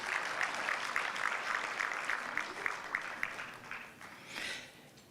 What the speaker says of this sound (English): Let's give Dr. Mudapa a good round of applause